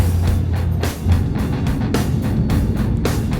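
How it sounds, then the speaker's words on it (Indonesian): A tour bus driving past on a road, a steady loud engine rumble with a broad whoosh rising and fading as it goes by. "Bus pariwisata ini bosku."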